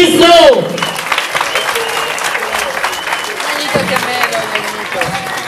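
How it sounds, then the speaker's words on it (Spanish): Sustained applause from a crowd at an outdoor Catholic charismatic music concert in Ecuador, a dense continuous wash of clapping and crowd noise, loud and steady, with a voice briefly heard over the start. "A ver esas palmas para Cristo."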